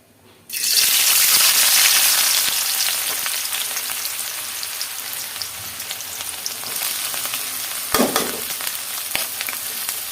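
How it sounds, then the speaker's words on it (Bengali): Onion, garlic and green chilli hit hot oil in a home kitchen pan, bursting into a loud, steady sizzle that gradually settles, with a brief stir or clatter partway through, close up and without talk. "পেঁয়াজ রসুন কাঁচামরিচ হালকা ভাজাভুজি করে তারপর শাক পাতাটা দিয়ে দিব এটার মধ্যে"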